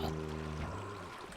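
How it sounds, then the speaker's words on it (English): Water flowing and trickling inside a cave in a Minecraft-style survival game, a steady, fairly quiet rushing stream heard alone over a low, constant background hum. "I do not want the water flowing down here."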